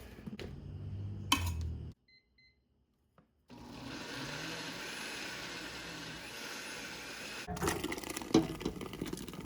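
A thick, wet chicken stew mixture is poured into a pot in a steady, broad rush of sound, preceded by clattering handling and a short quiet gap.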